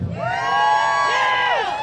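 An audience at a rally in Fort Worth, Texas breaks into cheering, whoops and shouts rising into a loud, close burst that lasts about two seconds with no speech over it.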